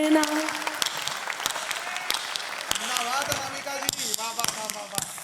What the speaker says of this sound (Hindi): सुनाती हूँ तुम्हें तुम तालियों का साज दे देना